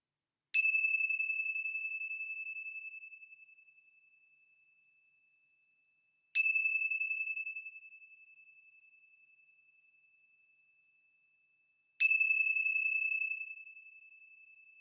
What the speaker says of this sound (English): let's begin our time with the ringing of the bells of hope